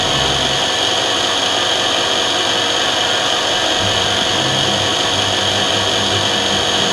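A DM-200 drilling machine runs its milling cutter in a loud, steady, continuous whir with a grinding edge that keeps going without a break, and no one speaks.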